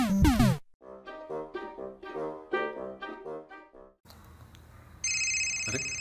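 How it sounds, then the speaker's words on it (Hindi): Phone ringtone from a cab driver's incoming call: a bright melodic tune of repeated chiming notes rings for several seconds, preceded by a short burst and followed by a brief noisy stretch and a steady electronic tone. "ड्राइवर का फोन आ रहा है।"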